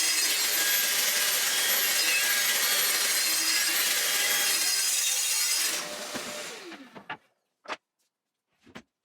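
Saw cutting through the shelves of 32-year-old IKEA Billy bookcases, trimmed in pairs against a bench stop: a loud, steady rasping that runs about six seconds, then fades and stops, followed by a few brief knocks.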